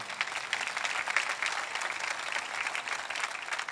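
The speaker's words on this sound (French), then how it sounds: "voulez-vous applaudir avec moi?" Steady applause from a church congregation during a sermon, dense continuous clapping at even loudness throughout with no voices standing out.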